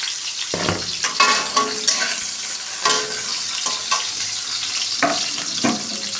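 Raisins and cashew nuts fry in hot oil alongside carrots and whole spices, a continuous close sizzle punctuated by repeated scraping stirs of a spoon against the pan.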